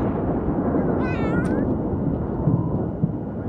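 A cat in the video game The Sims 3 gives one short, wavering meow over a loud, constant wash of thunderstorm rumble and rain, with a couple of faint knocks after it.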